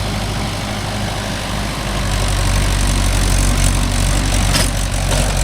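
A Mahindra 415 DI tractor runs with a 36-blade rotavator in farmland, its low diesel drone loud and constant, swelling slightly partway through with no voices.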